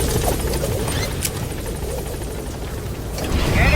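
A helicopter in the video game Metal Gear Solid V makes a steady, loud rotor roar that holds for several seconds and swells slightly near the end.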